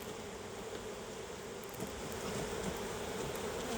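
Honeybees swarm and buzz steadily around an opened hive during a spring inspection, a dense continuous drone close to the microphone with no voices.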